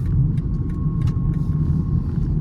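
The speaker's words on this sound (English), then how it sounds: "Going through this kind of red rumble strip, the suspension actually absorbs it rather well" A 2025 BMW 330i M Sport in comfort mode rolling over a red rumble strip on a highway, giving a steady low rumbling drone with a faint tonal whine, close inside the cabin.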